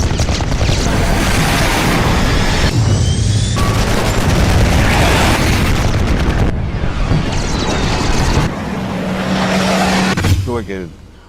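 A loud, sustained roar of blasts and rumbling, heard as an aircraft attacks a ship in the Falklands War, fills the whole stretch with heavy, dense noise that cuts off abruptly several times.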